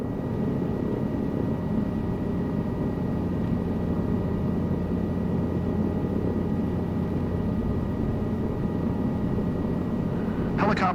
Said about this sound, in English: You have full control in the helicopter, and you are hovering all by yourself.